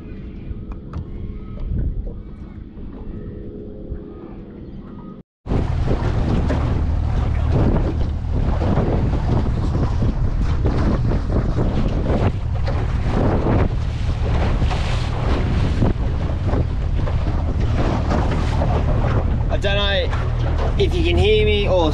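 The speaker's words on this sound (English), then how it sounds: "the wind has really kicked up" Strong westerly wind roars across a small fishing boat at sea, a loud, constant rushing blast of wind noise on the microphone after a brief quieter moment, with faint water below.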